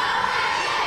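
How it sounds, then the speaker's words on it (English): A wrestling arena crowd chants for O'Hagan at a Global Championship Wrestling TV show, a steady, dense wall of massed voices filling the hall. "Crowd chanting O'Hagan."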